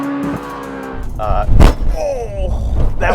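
Ferrari 458 Italia launches hard from a standstill, a loud engine surge with a sharp burst and tire scrabble, the revving rising close up, mixed with brief voices.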